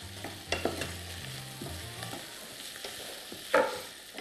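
Onion and garlic frying in a cooking pot while being stirred, with a soft continuous sizzle, scraping stirs and a sharper clatter near the end, no talking.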